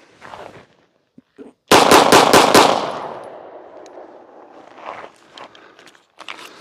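A Sig P365 XL pistol fitted with a True Precision micro compensator fires a rapid string of about five loud, sharp shots in quick succession, followed by a ringing decay and faint outdoor shuffling.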